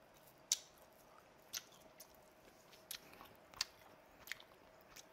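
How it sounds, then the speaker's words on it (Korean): Semi-dried fish dipped in soy sauce is being eaten, giving faint, sparse bites and chewing crunches at irregular intervals over a quiet background, with no talking. "자, 간장 살짝 찍어서 냠냠."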